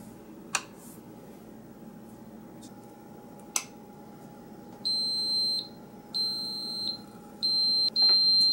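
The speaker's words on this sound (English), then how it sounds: "And there's our buzzer, so we're going to switch it off." A Cuisinart CEC-10 egg cooker's buzzer sounds in a kitchen as a series of shrill electronic beeps that grow longer and more frequent, after two faint clicks, with no talking.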